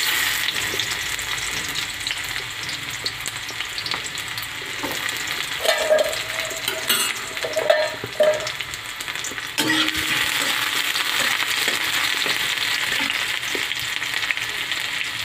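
Onions frying in a little oil in a pan, with a continuous bright sizzle, occasional stirring scrapes, and a brief burst of louder crackling partway through, close and steady with no talk.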